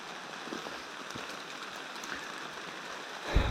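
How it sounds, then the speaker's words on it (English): Rain falls in the woods as a soft, steady patter with scattered drops hitting leaves and ground, faint and continuous, with a brief louder knock near the end. "I guess this is where I suck it up and admit that I'm getting rained on."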